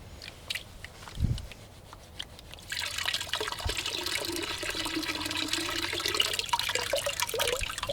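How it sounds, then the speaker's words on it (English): Water sloshes and rolls across a gold pan of crushed desert rock, a steady wash of splashing that starts after a quiet opening with a brief low thump, continuing loud and close to the end. "That's just kind of rolling the water across the top and pulling off the top slag real quick."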